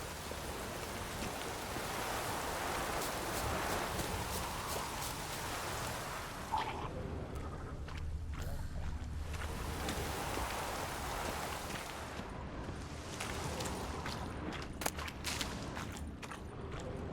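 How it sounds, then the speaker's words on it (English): Rain falls steadily in The Witcher 3: Wild Hunt, a dense broadband patter that swells and eases in waves, with occasional faint drops and thumps standing out close by. "Looks like rain."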